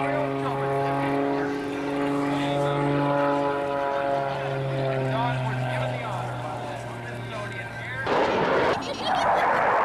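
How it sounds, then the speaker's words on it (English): An F-16 fighter jet flies at an air show near Harrisburg and Hershey. A loud droning engine roar with a falling pitch sweeps past, then gives way to a harsher rushing blast at the end. "F-16."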